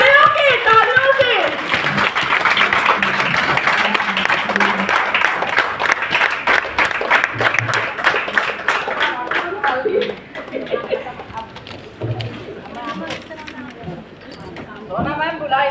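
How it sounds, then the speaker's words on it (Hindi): A standing audience at a women's campaign gathering claps in welcome for an arriving guest, a busy ripple of hands that runs on with voices talking over it, easing slightly in the last few seconds. "खड़े होके तालियों से।"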